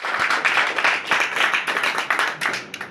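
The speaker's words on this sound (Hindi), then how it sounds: "एक बार ताली।" Seminar audience claps together in a quick, lively burst, many hands close by with rhythmic pulses that thin out toward the end.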